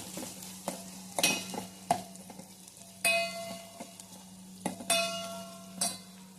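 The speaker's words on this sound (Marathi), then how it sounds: "आता यामध्ये आपण सोडूयात थोडीशी हळद, गरम मसाला आणि छान मिक्स करून घेऊयात" A metal spoon stirs turmeric and garam masala into fried chili masala in a pan, with several sharp clinks and scrapes against the metal over a soft, low sizzle.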